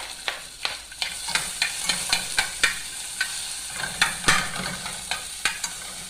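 Quick home-cooked meal being stirred in a hot pan, with a steady sizzle of frying food broken by regular scraping stir strokes roughly twice a second, close and fairly loud, with no talk.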